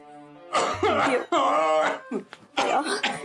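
Several harsh, loud coughs from a man with a worsening cough come in quick bursts close to the microphone, separated by short pauses and a strained breath.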